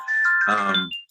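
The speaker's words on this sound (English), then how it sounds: "sorry, that was my phone." A mobile phone ringtone sounds during a natural resource committee meeting: a bright electronic melody of a few rising tones, loud and close, lasting about a second before fading out.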